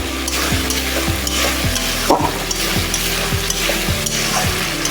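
Chopped coriander leaves fry in hot oil for a chicken curry, giving a steady, loud sizzle, while a spoon scrapes and stirs the pan at a regular rhythm.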